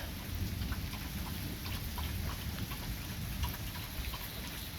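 Steady rain falling during a thunderstorm, a continuous wash of drops with low rumbling thunder underneath, even and unbroken throughout with no voices.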